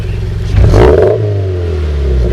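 Car fitted with a Nameless Performance axle-back exhaust, recorded close up as the engine blips to 3,000 RPM: a loud idle rumble swells into a quick rev, then drops back to a steady burble.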